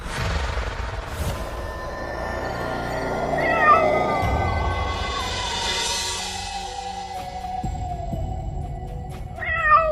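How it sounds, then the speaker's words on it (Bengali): A cat meows several times with drawn-out, wavering cries, fairly close and loud against a quiet night setting, with a final short meow near the end and no speech. "হঠাৎ শুনতে পেল বিড়ালের ডাক"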